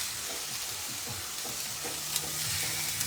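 Chicken sizzles in hot grease in a skillet, a dense continuous crackle and hiss with faint stirring scrapes underneath, fairly close and steady throughout.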